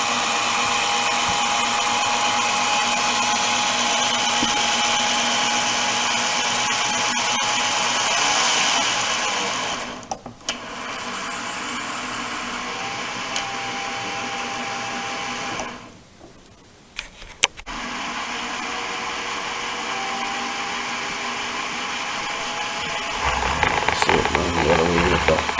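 A Bachmann Class 37 model locomotive running in on rollers, giving a loud, steady motor whir and hum that drops briefly twice before returning, with a rougher rattle near the end.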